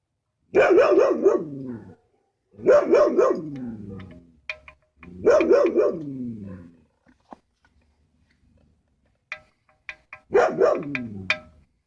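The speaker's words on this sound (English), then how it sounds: "My dog's going crazy." A dog barks loudly four times at a steady pace about two seconds apart, with faint clicks and taps in the quiet gaps.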